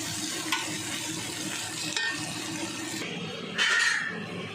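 Mint and coriander leaves frying in a pan for restaurant-style basmati mutton biryani, a steady close sizzle with a few stirring knocks and a brief watery hiss near the end.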